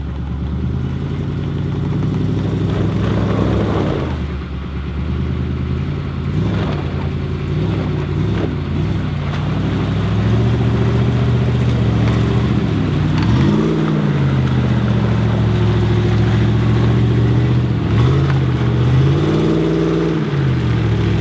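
A Humvee engine labors to haul a 1996 Ford F-250 out of mud, loud and close, droning steadily with several rising and falling surges in pitch as it strains and revs.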